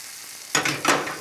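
Crepe batter poured into melted butter in a hot pan, a sudden loud sizzle bursting in and then hissing steadily up close.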